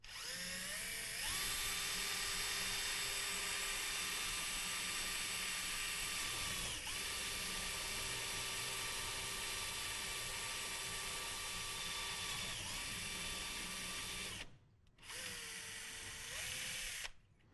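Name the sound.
surgical drill drilling through bone cortices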